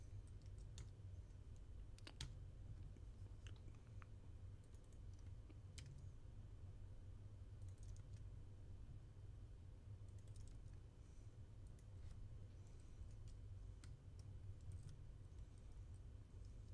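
Quiet, scattered keystrokes tap on a computer keyboard in irregular bursts over a faint steady room hum, close and without speech.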